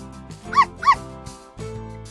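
A dog barks twice in quick succession, the sharp yips sounding clear and fairly close over a soft background of music.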